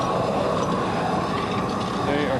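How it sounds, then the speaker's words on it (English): Ordinary propane torch burning at full flame for melting bronze in a crucible, a loud steady broadband roar that holds constant throughout, with a voice faintly present underneath. "So this is a propane torch. Just ordinary propane."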